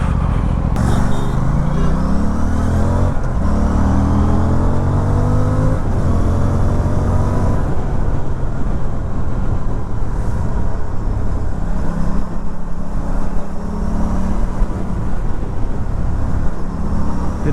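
Aprilia Tuono 457 motorcycle with a parallel twin 457 engine, heard on the move: a loud, steady engine drone that rises in pitch as it accelerates and shifts through the gears, continuous and close throughout with no talking.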